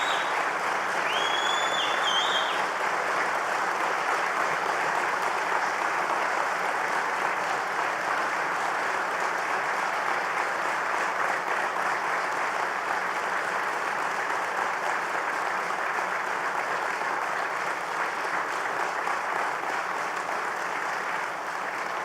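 An audience at a governor's jobs announcement breaks into sustained applause, a dense steady clapping that carries evenly from start to finish with a few faint cheers or whistles early on.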